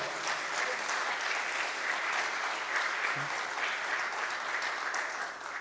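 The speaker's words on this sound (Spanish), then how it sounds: "Oh, dele un aplauso al Señor." A church congregation applauding the Lord during a sermon by Pastor Sergio Milanes, a dense, sustained wash of clapping from many people that stays even and full throughout.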